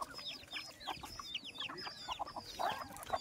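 A flock of farm hens clucks and squawks near a shed as they gather when called, with many overlapping short calls at varied distances.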